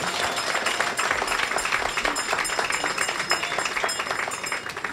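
An audience at an opening ceremony for an East Line bus terminal claps steadily, a dense, even patter of many hands filling the space without a break.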